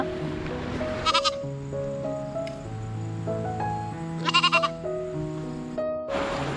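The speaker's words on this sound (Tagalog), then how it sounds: "Ito yung kambing namin" A goat on a rural farm bleats in several long wavering calls, loud and close, with quieter bleats from other goats and farm noise between them.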